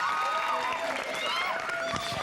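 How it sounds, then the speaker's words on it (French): An audience at a Cameroonian TV show applauds a performance, a dense, continuous wash of clapping heard under a presenter talking over it the whole time. "Alors, on applaudit très fort,"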